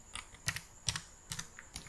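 Computer keyboard keys tapped while an email address is typed, a handful of quick, light clicks in short clustered bursts with brief pauses, close and fairly quiet with no talking.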